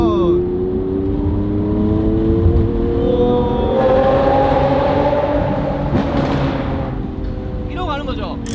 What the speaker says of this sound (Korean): 저는 좀 더 달리고 그런 배기음이 듣고 싶어요